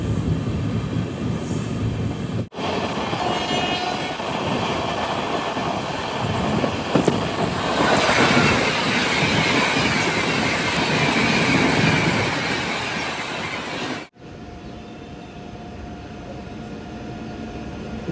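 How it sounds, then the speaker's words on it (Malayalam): Coimbatore Shatabdi express from MGR Chennai Central rushing past at close range, a loud sustained roar of wheels and rail rumble lasting most of the clip before cutting to a quieter steady hum; no distinct horn blast stands out. "ഇതുവഴി ഇപ്പം MGR ചെന്നൈ സെൻട്രൽ കോയമ്പത്തൂർ ശതാബ്ദി കടന്നു പോകും"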